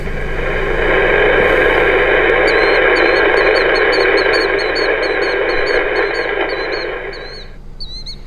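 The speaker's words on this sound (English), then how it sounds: "I know you can hear static, but normally on a Saturday morning on channel 36, lower sideband, you would hear a lot more than just static" Steady broadband static hiss from a radio tuned to channel 36 on lower sideband fills the clip at a constant level, with faint bird chirps above it near the end.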